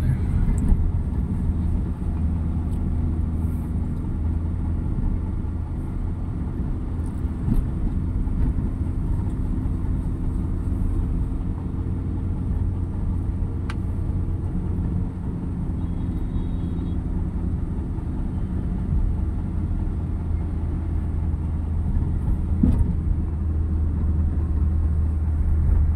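A car driving in second gear near a flyover, a steady low engine and road rumble heard from inside the cabin, constant in level throughout.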